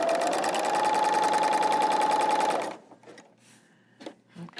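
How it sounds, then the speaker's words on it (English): A Juki L890 overlock sewing machine stitches in a fast, loud, steady mechanical whir for a couple of seconds, then stops abruptly, leaving faint handling clicks and rustles. "let's go ahead and see if we can get the stitch to form."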